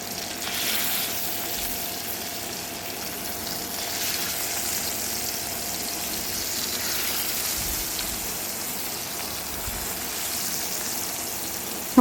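Mackerel frying in oil, cooked outdoors, gives a steady, close sizzle that hisses evenly throughout, ending with a faint clink.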